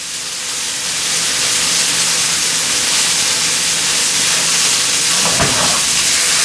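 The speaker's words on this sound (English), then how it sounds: "We just want to allow the heat to do its thing, pull the moisture out of these, and begin to roast them." Brussels sprouts roast in a hot pan for a Thanksgiving side dish, giving a steady, loud sizzling hiss throughout, with a brief clatter or shake near the end.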